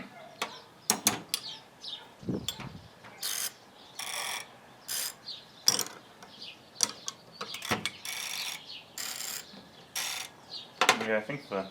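A lubricated ratcheting wrench clicks close up in repeated bursts of rapid ratchet ticks, separated by short pauses, with no talk.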